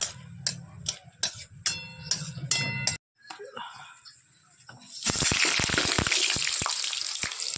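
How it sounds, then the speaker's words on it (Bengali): Potatoes hit hot oil with whole cardamom and cinnamon, breaking into a loud, dense sizzle partway through that keeps crackling to the end. A voice talks over clicking kitchen sounds before the frying starts. "আলুটা ভাজি"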